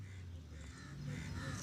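A crow caws faintly outdoors, a brief harsh call or two set against soft ambient background noise.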